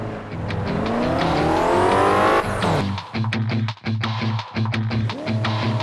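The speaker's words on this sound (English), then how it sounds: "Now your car has come back from the dead, Lazarus style." A car drives in the racing game Crash Time: Undercover. The engine revs loud and high, then drops into gear-shifting surges with short squeals of tires, and no talking over it.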